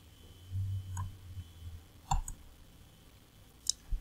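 A few soft computer mouse clicks as changes are saved to a document, sparse and faint against a quiet low hum.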